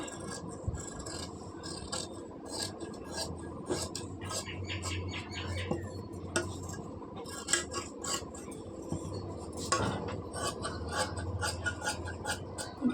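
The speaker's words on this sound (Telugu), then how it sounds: "ఇప్పుడు కట్ చేసి చూపిస్తాను" Scissors snip through blouse cloth in a steady series of sharp, close clicks and crisp cuts, repeating rhythmically with a faint background hum and no talking.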